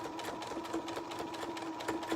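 Sewing machine running a slow top stitch along fabric for a book pillow, a close, even hum with rapid regular needle clicks throughout.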